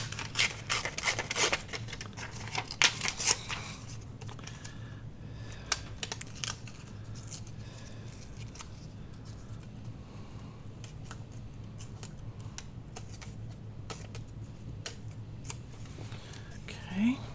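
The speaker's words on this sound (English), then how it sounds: "So I'm going to grab some of my vellum out. And we'll tear a little piece." A small piece of vellum paper is torn by hand while crafting, a few close crisp rips and crackles near the start, then quieter handling rustles.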